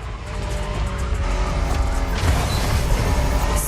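Honda NSX from the 1990s driving in The Crew Motorfest racing game, its engine droning loudly at a constant pitch while the tires squeal and skid in a continuous stretch, with no speech over it.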